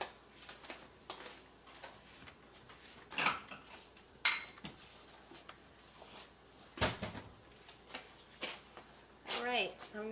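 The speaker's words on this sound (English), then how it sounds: "Can you get me one of those bowls?" Bowls and dishes handled in a kitchen while making lamb chorizo empanadas, with several sharp clinks and clatters spaced irregularly over quiet room noise, near and moderately loud.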